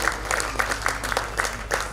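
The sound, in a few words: applause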